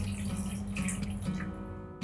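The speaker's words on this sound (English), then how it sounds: "In a pan on heat, I am taking 1 cup of water" A cup of water is poured into a pan on the heat for sugar syrup, a steady close splashing stream with a soft low hum underneath, ending abruptly.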